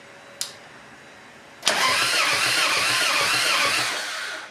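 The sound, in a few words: Harley Davidson engine cranking but failing to start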